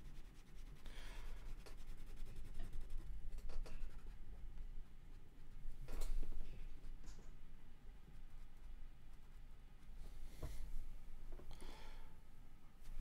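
Hand drawing on paper, a steady scratchy pencil-on-paper rubbing that runs throughout with a few louder strokes, close and fairly quiet, with no talking.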